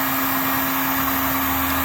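A heat gun blows steadily on exhaust tape wrapped around the exhaust of a 1994 Acura Vigor GS, giving a constant loud whooshing hiss with a steady motor hum underneath.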